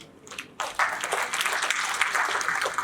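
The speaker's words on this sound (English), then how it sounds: "with a round of applause, please" An audience applauding award nominees at a business event, clapping swelling in after a brief lull and holding steady as a dense crowd sound.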